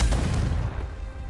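A Confringo fire spell bursts in Hogwarts Legacy as a single deep, rumbling blast that trails off over about a second.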